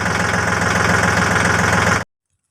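A Yanmar 39-horsepower tractor engine ploughing a field, loud and close with a steady knocking diesel chug for two seconds before cutting off abruptly into silence.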